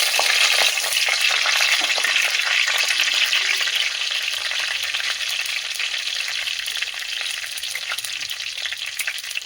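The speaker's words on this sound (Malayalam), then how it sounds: "ഇനി അതിലേക്ക് 2 വറ്റൽമുളക്, കറിവേപ്പില ചേർക്കാം." Dried red chillies and curry leaves crackle and sizzle in hot oil for cashew nut kuruma, a loud bright frying hiss up close that eases off slightly over time.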